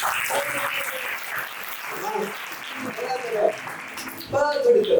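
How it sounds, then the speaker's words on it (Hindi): An audience at the Anand Mahotsav 2024 gathering applauds for itself, a moderate stretch of clapping heard under a voice and other talk, with a brief louder swell near the end. "एक बार ताली बजा दो अपने लिए"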